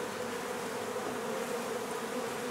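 Honey bees buzz in a dense, steady drone during removal of a hive from an old home in Donna, Texas, continuous and close with no talk.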